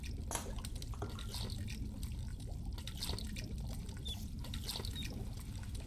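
Goulash bubbles in a cauldron in The Dwarves, a soft, steady wet burbling with faint pops and drips. It runs quietly and evenly throughout, with no voices over it.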